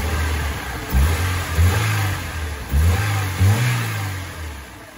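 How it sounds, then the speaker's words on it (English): A Honda Civic engine runs nearby, warming up at idle with several short revs that rise and fall, a steady mechanical hum underneath. "Car's on. Let it warm up a little bit."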